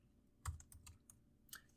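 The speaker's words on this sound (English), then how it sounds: "And so as I type this in" Several soft, close clicks come from a computer keyboard as someone types code in R, scattered irregularly with one sharper keystroke, all quiet and without speech.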